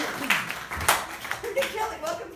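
Scattered claps from a small group at a team meeting in a model home, rising and falling over a couple of seconds, with a speaking voice running underneath.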